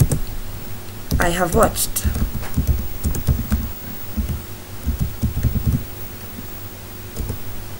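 Someone types on a computer keyboard, producing quick bursts of close, light key clicks with short pauses between them, under a person talking.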